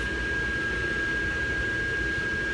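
An inflatable Santa helicopter yard decoration hums steadily, a constant fan-like whir with a thin steady whine over a broad rushing noise, close and unbroken, with no voices.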